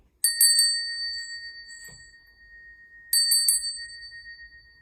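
A high, clear bell rings in a quick cluster of strikes during an energy-healing session and lets its tone hang. After a soft pause it rings again in another rapid burst.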